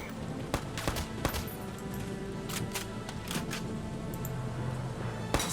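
Scattered sharp gunshots in Valkyria Chronicles 4 crack out in irregular bursts over a steady background hum, moderately loud with short gaps between volleys.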